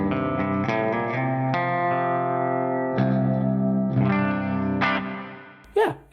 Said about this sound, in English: I have Ganymede here because it's the lowest DSP reverb for my clean channel